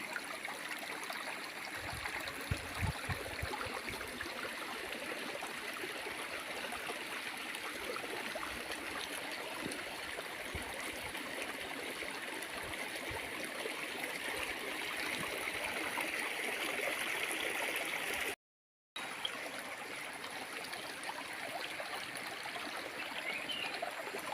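A forest stream flows continuously, a soft, even rushing and trickling of water heard from a moderate distance, with one brief dropout near the end.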